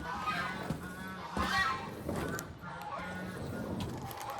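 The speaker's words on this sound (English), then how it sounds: "That got the gander going." A gander goose honks loudly and repeatedly close by as it guards goslings, with harsh, uneven calls in bursts and a person talking at times.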